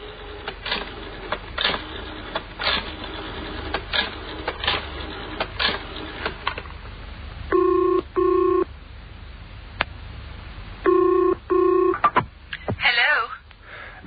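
A telephone is dialed to ring a frozen-foods factory, with a few quiet clicks and handling noises followed by two separate bursts of steady dial tones, each made of paired beeps, and then more clatter at the end.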